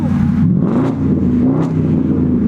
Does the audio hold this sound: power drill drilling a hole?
no